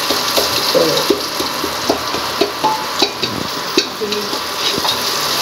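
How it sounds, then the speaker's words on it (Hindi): Spices sizzle as they temper in hot mustard oil in a home kitchen, a loud, steady crackle and hiss broken by repeated sharp clicks and stirring knocks against the pan. "ये मैंने इसमें डाला है सरसों के तेल में, छौंकती हूँ आपको"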